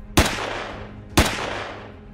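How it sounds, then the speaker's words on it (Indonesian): A robber fires a pistol twice, each a sharp loud report about a second apart with a decaying tail. "ia menembak Bruce tepat di jantungnya."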